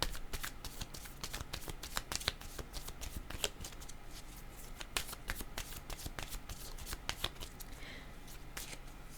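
A deck of tarot cards being shuffled by hand, a quick, close, continuous run of crisp riffling flicks and slaps with no talking.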